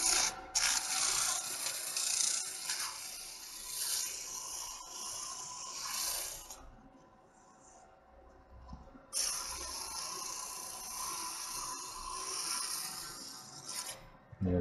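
Sandpaper rubbing over a wooden egg cup spinning on a lathe, just lightly breaking the sharp edges, a steady close rasping hiss in two long passes separated by a quieter pause.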